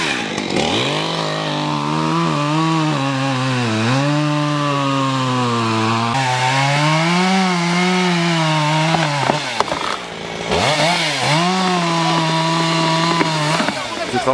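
Chainsaws cut wood at a riverside work site in Rougé, their engines revving loud and close in long sustained whines that dip and climb with the load, a brief drop near the end before the engines roar back.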